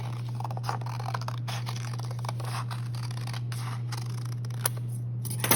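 Paper is cut with scissors during a sugar skull craft, giving a run of soft, rapid snips close by over a steady low hum, with no talking.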